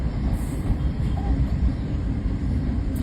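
A passenger train with AC coaches rolls past close by, giving a continuous loud rumble and clatter of wheels that holds steady throughout.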